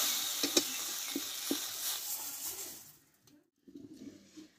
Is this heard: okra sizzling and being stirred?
yes